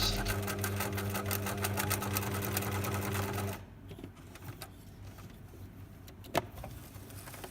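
Close up, a sewing machine stitches the waistband of a wrap skirt through two layers of fabric, running in a fast steady whir for several seconds, then stopping, followed by quiet handling noises and a faint click.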